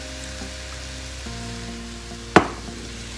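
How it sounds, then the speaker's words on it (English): Broccoli sautés in an oiled pan, a soft, continuous sizzle under a low background hum, broken by one sharp clatter of utensil against pan. "I'm just gonna let the broccoli saute until it's cooked through"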